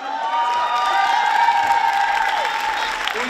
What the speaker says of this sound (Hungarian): Köszönjük a tapsot!